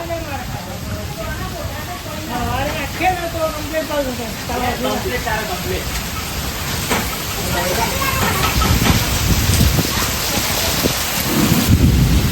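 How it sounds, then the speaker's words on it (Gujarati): Heavy night rain pours down in a steady, dense hiss, with voices talking over it and a louder rumbling surge near the end. "સખત વરસાદ ચાલુ છે"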